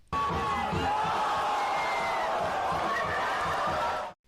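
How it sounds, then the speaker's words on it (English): Crowd at a breaking battle cheering and whooping steadily, a loud continuous roar of voices at close range with no pauses. "Just listen to this crowd."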